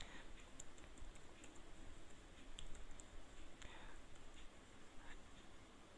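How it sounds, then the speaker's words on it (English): Someone types a password on a computer keyboard: sparse, irregular key clicks, faint and close, over a steady low background hum. "I will type the invigilator password"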